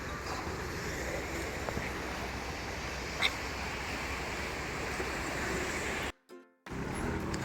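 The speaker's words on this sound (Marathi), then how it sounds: "लाटांचा आवाज येतो आहे" Steady, broadband roar of ocean surf washing continuously on Shrivardhan beach, with a brief dropout near the end before the wash resumes.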